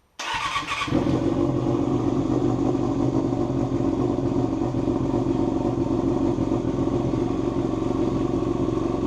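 A Kawasaki ZR250 motorcycle fitted with a retro-fit immobiliser cranks, then settles into a loud, steady close-up engine drone that runs on without a break and with no talking.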